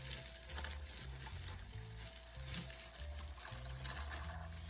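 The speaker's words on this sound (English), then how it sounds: "Next, we're gonna add in our cauliflower." Thawed frozen cauliflower frying in a pan for shrimp fried rice, giving a soft steady sizzle throughout, fairly quiet, alongside low background music tones and no talking.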